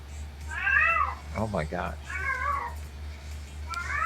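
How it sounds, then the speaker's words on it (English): Three close, plaintive cat meows spaced over a few seconds, with a person's brief exclamation between the first and second calls and a constant low hum underneath. "Just what the cat's saying."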